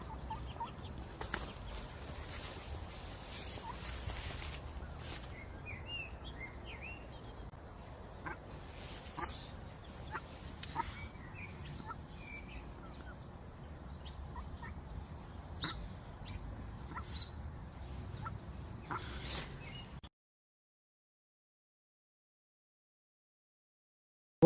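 Wild duck with a brood of eight ducklings in a UK back garden, soft quacks and peeping calls scattered over steady outdoor ambience, moderately close, with no talking.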